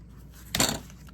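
One short, crisp snip of scissors cutting through the paper of a vintage ledger, close and alone against a quiet room.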